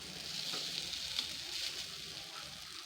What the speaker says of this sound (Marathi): आता अप्पे आपण पलटवून घेणार आहोत।